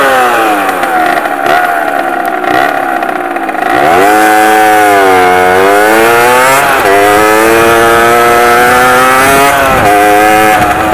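A motorcycle engine revs loudly and close, pitch climbing and falling in repeated throttle blips over a steady idle.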